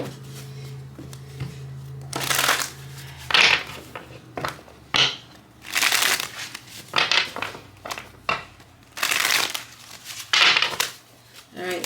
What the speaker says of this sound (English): Let me do a quick shuffle here.